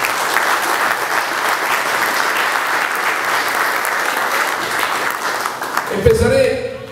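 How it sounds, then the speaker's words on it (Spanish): A large audience at a Spanish-language talk breaks into sustained, even applause for about six seconds, which then fades as a voice begins. "debemos darnos un aplauso porque somos gente distinta"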